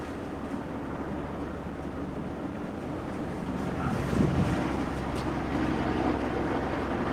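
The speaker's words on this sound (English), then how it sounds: "Ooh, cold wind" Cold wind gusts across the microphone at a tornado chase site in Kit Carson, Colorado, a continuous rushing roar that swells louder midway and stays steady, with no voices.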